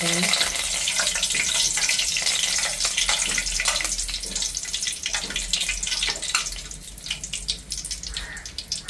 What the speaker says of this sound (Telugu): బూందీ అంతా రెడీ చేసేసామండి ఇందులో కొంచెం కరివేపాకు వేసుకొని ఇలా వేయించేసుకోవాలండి